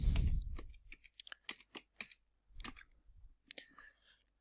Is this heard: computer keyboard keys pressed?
yes